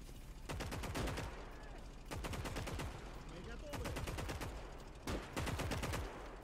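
Bursts of machine gun fire from an MG squad in a video game, four long rapid volleys separated by brief pauses, loud and close.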